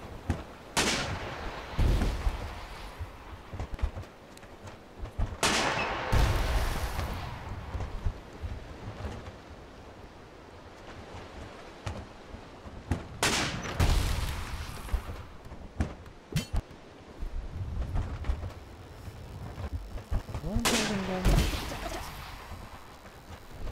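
Ship cannons firing in the sailing video game Sail Forth: several sharp booming shots at irregular intervals over a steady rumbling, watery background.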